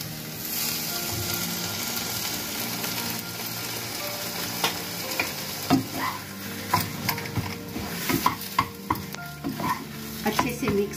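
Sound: potatoes frying in pan for masala dosa filling

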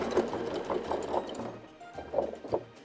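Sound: sewing machine stitching fabric Christmas tree

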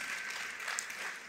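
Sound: men in the audience clapping their hands

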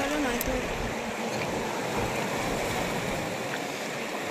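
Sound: rising high-tide sea water covering coral at Laxmanpur Beach

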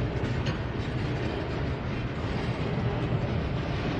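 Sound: train passing at Bevier St. Yard

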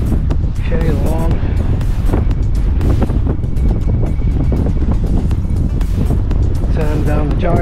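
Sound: wind blowing outdoors

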